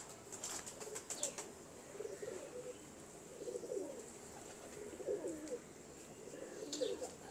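Soft pigeon cooing repeats in low rounded bursts, with a few faint chirps and wing flutters in a quiet background.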